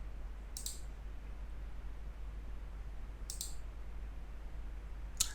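A computer mouse clicks three times with long pauses between, crisp and close against a quiet room hum.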